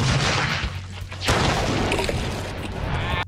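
A pineapple hand grenade with its distinctive grooved body detonates in a blast test among fragment-tracking boards, a sudden sharp boom with a rushing, crashing tail of debris and echo fading over the following seconds.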